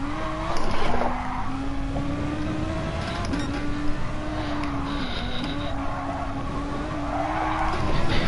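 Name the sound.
race car tires squealing on corner exit in video game GT Sport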